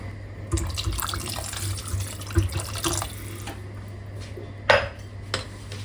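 Boiled water poured over soaked beans in a kitchen pot, a faint trickling pour with light clinks of metal cookware and a sharper clatter near the end.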